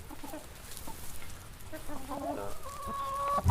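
Backyard chickens clucking close by while pecking at crumbling cauliflower in winter, soft overlapping clucks and a few sharper calls over rustling and pecking.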